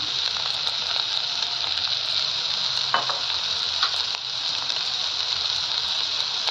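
Flattened rice (chira) with sugar and salt being stirred in a pan, a steady close sizzle and scraping that runs evenly throughout with a few louder clinks of the spatula, no talk.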